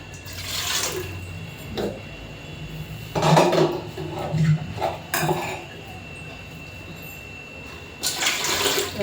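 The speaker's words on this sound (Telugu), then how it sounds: "ఇంకా పాత్ర పెట్టేసుకొని నీళ్ళు పోసుకోవాలండి తగినన్ని" Water is poured into a cooking pot set on a lit gas stove while making idli, in a few splashing bursts with light clanks of metal cookware between them and quieter pauses.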